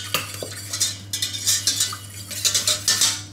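A utensil scrapes and clinks steadily against a bowl while ganache ingredients with eggs are mixed, a busy, close, continuous stirring sound.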